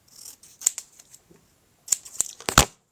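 Scissors cutting away white edges of a paper piece, heard as a series of close, crisp snips in two bursts, with quiet paper handling between them.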